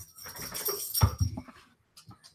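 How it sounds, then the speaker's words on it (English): A pet dog whimpers and whines in short, uneven bursts close by, with soft rustling between them and a few faint whines trailing off at the end. "I'm going to show you guys my dog real quick"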